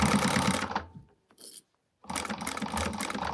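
A sewing machine stitches through bulky fabric for a garment pattern, running in a close, rapid whir, pausing for about a second, then starting again in a second burst.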